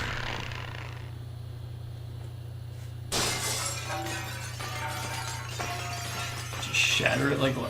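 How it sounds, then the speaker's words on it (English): Magic barrier shattering in the video game Wind Waker HD: a sudden loud crash of breaking glass that bursts out partway through, followed by scattered tinkling shards and chimes over a low steady hum. "Shatter it like glass."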